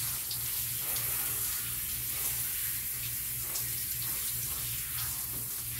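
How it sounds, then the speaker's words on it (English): Water running steadily from an outdoor spigot while a dog tries to drink from it, a continuous close splashing gush with no pauses. "Trying to drink out of the spigot."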